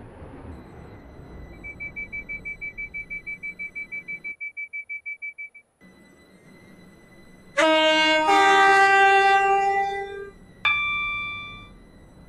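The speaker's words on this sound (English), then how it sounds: "This train has four coaches." A Class 377 passenger train in service: a rapid beeping door alarm repeats for several seconds, then a pause, then loud two-tone horn-like chimes sound close by.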